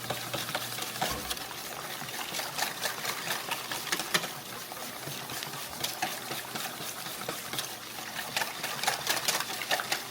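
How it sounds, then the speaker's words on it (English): Eggs being whisked for a panettone French toast custard with cinnamon, giving a steady, fairly loud stream of rapid clicking and sloshing strokes that runs without pause and with no talk. "Give it a really good whisk."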